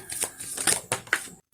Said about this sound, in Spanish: ahora vamos a barajar con el tarot de Osho